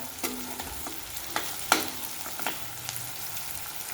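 Chopped onion sautés in a pan for a Maharashtrian pavta rice dish, a soft, steady sizzle broken by a few sharp stirring clacks and scrapes up close, with no voices.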